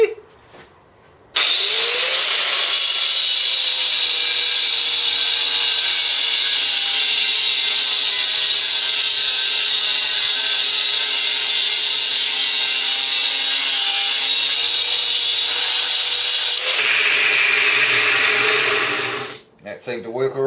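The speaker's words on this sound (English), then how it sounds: "I'll try and cut it off with one of these fancy diamond blades" An angle grinder fitted with a diamond blade cuts through a bolt head, a loud, close, continuous high-pitched grinding whine of about fifteen seconds that starts abruptly and stops with a brief tapering spin-down.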